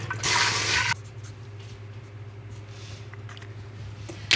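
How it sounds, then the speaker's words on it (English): A pot being refilled with fresh water from a tap: a loud, steady rush of running water for under a second, then a quieter room with a low hum and a few small clinks. "fill it back up"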